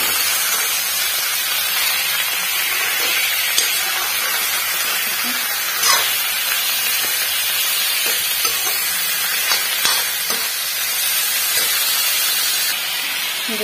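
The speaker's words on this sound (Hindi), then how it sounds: "देखिए दोस्तों हम चिकन को फ्राई कर रहे हैं खूब अच्छे से" Chicken pieces frying in hot oil until golden, a steady loud sizzle and hiss running throughout with occasional stirring scrapes and small pops.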